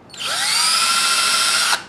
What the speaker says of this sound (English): See, I got a little teeny drill bit. You don't have to go very far.